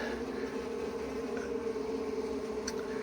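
Bees returned to an old hive site hum in a faint, steady drone close by, a continuous insect buzz against a soft windy background.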